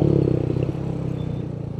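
Royal Enfield Hunter 350 motorcycle turning a tight spin on a hill, its single-cylinder engine idling and pulsing steadily up close with some mechanical clatter, loud and continuous with no talking.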